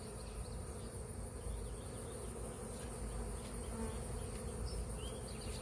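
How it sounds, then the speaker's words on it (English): Dense steady hum of many honey bees buzzing around a large open hive in a barnyard beekeeping setting, continuous and close with occasional individual bees flying past. "But there is a lot of bees here"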